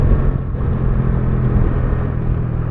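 A Bajaj Dominar 400 motorcycle engine running after a full service, a loud, close, steady low rumble with no clear revving peaks, heard alone.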